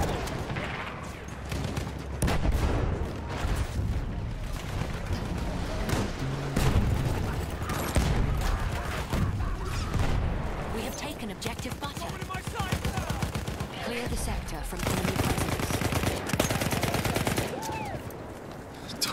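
Dense, continuous gunfire from Battlefield 1 with rapid machine-gun bursts and booming impacts, loud and close throughout, mixed with game sounds and occasional voice.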